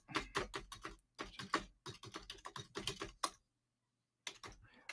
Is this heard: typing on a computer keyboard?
yes